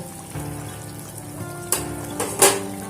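Fried bhola fish simmers in a thin curry with potato, bori and eggplant, a soft continuous bubbling and sizzle broken by a few louder wet pops and spatters near the end.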